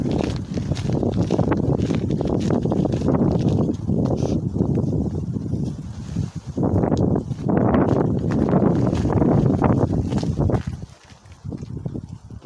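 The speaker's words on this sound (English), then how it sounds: "Sorry about the wind." Loud, steady low rumbling of wind buffeting a microphone outdoors at an old tin mine, continuous for most of the clip before easing slightly near the end.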